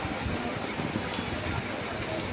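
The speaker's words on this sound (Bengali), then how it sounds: "চরম বৃষ্টি, মুষলধারে বৃষ্টি হচ্ছে।" Heavy downpour at Sealdah railway station in Kolkata, a dense steady roar of rain hitting surfaces with a low rumble of station activity underneath, continuous and fairly loud.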